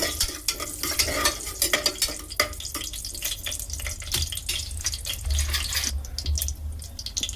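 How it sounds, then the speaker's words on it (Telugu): Whole cloves, cardamom and cinnamon fry in hot ghee and oil for a mutton biryani, giving a steady close sizzle with frequent scraping and stirring clicks throughout, no voices. "నెయ్యి నూనె వేడైన తర్వాత లవంగాలు సో యాలక్కి చెక్క అనేది వేసి బాగా ఫ్రై చేసుకోవాలి"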